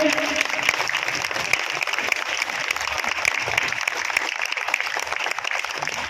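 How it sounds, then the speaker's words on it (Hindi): Loud, steady applause from the crowd at a gathering of NHM employees' union leaders, dense and continuous for several seconds without a break. "जोरदार तालियां बजती रहनी चाहिए।"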